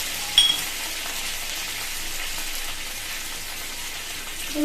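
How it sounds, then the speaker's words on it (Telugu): Cumin, mustard seeds, curry leaves and chillies frying in hot oil, a steady soft crackle and sizzle with occasional small pops, fairly quiet and close, with no talk. "ఆయిల్ హీట్ అయింది కదా జీలకర్ర ఆవాలు వేసుకున్నాం ఇప్పుడు ఇప్పుడు బాగా మిక్స్ చేసుకోవాలి ఇప్పుడు కరివేపాకు వేసుకున్నాం మిరపకాయలు వేసుకున్నాం"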